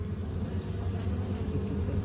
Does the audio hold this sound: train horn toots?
no